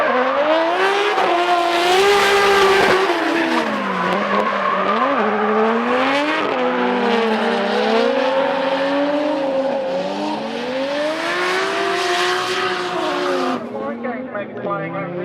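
Drift cars race nose to tail through S-bends at a G1 Drift 2016 event, with a loud, continuous roar of engines whose pitch rises and falls as they rev and shift, along with some tire squeal and a commentator talking over them.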